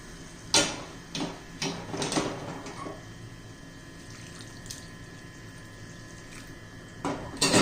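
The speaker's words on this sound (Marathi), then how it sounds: "आता याच्यात आपण गरम पाणी घालणार आहोत" Hot water pours into a pan of fenugreek and pea curry. A few sharp splashing bursts come early and again near the end, with a quiet steady hiss between them, close and without speech.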